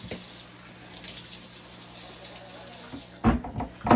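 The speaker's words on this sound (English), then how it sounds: "I'm going to start by washing off my sweet potatoes." Tap water runs steadily into a sink while sweet potatoes are rinsed clean of dirt, a continuous close splashing hiss that swells into louder, choppier splashes near the end, with no one talking.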